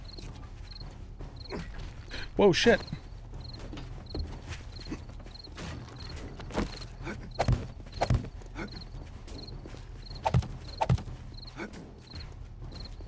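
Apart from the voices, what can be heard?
zombie footsteps in video game 7 Days to Die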